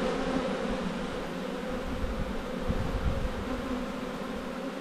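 Honey bees swarm in a steady, dense buzz at an opened, long-neglected hive, close and constant throughout.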